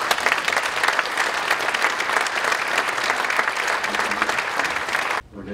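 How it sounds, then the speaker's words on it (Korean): A church congregation applauds in a sustained, even wash of clapping that fills the room, then cuts off abruptly near the end; no talking. "수고에 대한 격려와 유해 박수 한번 부탁드립니다."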